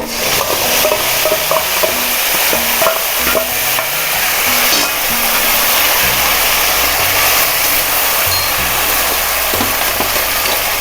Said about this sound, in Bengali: এবার আলু দিয়ে দেবো। আমাদের লাল লাল করে ভেজে নিয়েছি, এবারে বাটা মশলাটা দিয়ে দেবো।